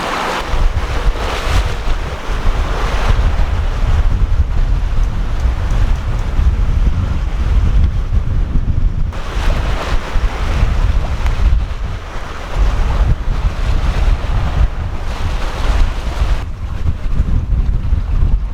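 Wind and ocean waves while sailing off Guadeloupe in the Caribbean, a loud continuous rush of surf and gusting wind buffeting close by, with no voices.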